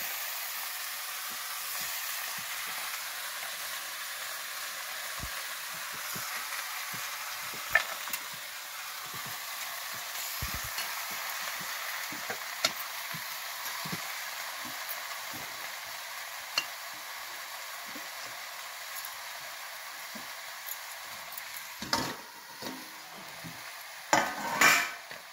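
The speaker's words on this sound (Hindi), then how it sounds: "सब्जी डल चुकी है और इसको मिक्स किया जा रहा है, मसाले मिल जाए अच्छे से" Vegetables with turmeric, salt and garam masala are stirred in a pan over a soft continuous sizzle, with frequent scraping and clinking of a spoon against the metal, louder toward the end.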